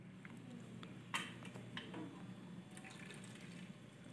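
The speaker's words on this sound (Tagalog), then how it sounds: "At ihalo na ang ating stock na pinagpakaluan ng noodles." Stock left from boiling noodles pours into a mixture in a bowl, with a gentle liquid splash and a few drips, soft and close.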